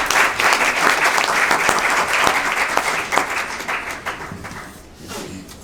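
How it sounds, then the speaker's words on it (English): Audience applause for a panel at a 2019 conference on education and healthcare in the DRC: dense, steady clapping from a sizeable crowd, loud at first and gradually thinning out toward the end. "let's give a round of applause for this panel"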